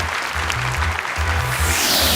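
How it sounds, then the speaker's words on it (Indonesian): An audience applauds a seven-year-old girl contestant after her Quran recitation in a memorization competition, with a short, even spell of clapping over a low hum. "Boleh tepuk tangan untuk Anissa."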